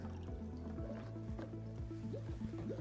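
Water bubbling and gurgling as it runs down into the freezing cylinder of an Electro Freeze CS-700 soft-serve machine while air escapes, a soft, continuous burble of repeated small bubbles under a steady low motor hum, faint and close.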